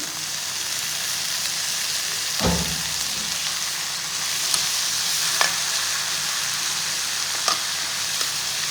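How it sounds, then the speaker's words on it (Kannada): Carrots, beans and tomato frying together in a pan for pasta, a continuous close sizzle with occasional clinks and scrapes of a stirring spoon, no voices. "ಇದು ಕ್ಯಾರೆಟ್ ಬೀನ್ಸ್ ಎಲ್ಲ ಫ್ರೈ ಆಗಿದೆ"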